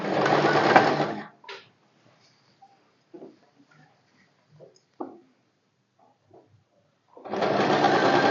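A sewing machine stitching fabric for a semi-patiala salwar whirs in two short, loud bursts at the start and end, with quiet clicks and faint handling noises between them.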